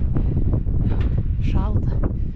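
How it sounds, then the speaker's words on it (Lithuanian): Strong wind gusts buffet the microphone at night atop an observation tower, a loud, steady roaring rush that fills the short stretch without pause. "tai šiaip žiauri vėjas pučia"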